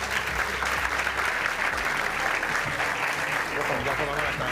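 An audience applauds at a gaming championship gala, steady dense clapping filling the whole stretch, with some voices and crowd noise mixed in.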